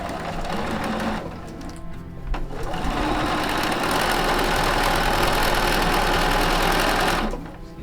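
A sewing machine stitches a quilt sashing seam with off-white thread, whirring steadily and fairly close, with a short pause before the second second and a brief slowdown before it runs again and stops near the end.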